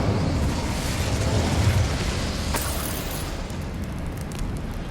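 A fire spell cast in Hogwarts Legacy gives a dense, continuous roaring whoosh with a rumbling low end. It holds steady through the whole stretch, with a brief crackling flare near the middle.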